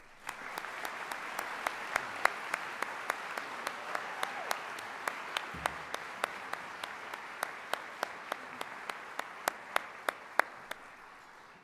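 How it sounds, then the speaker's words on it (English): Applause at a high school baccalaureate ceremony, a broad soft crowd wash punctuated by sharp, regular individual claps from one nearby pair of hands, steady throughout at moderate level. "How about another round of applause?"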